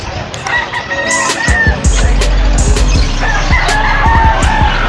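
Several fighting roosters crow and cluck close by, their calls overlapping amid a busy, noisy outdoor animal market background in Pampang, Angeles.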